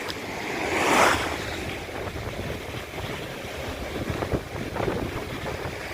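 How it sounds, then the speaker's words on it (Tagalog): Rough sea waves slosh and slap against a small fishing boat in stormy weather, a broad roaring wash with a surge early on, and wind buffeting the microphone throughout. "Sisirain talaga ang bangka pag ganito ang along kalakas"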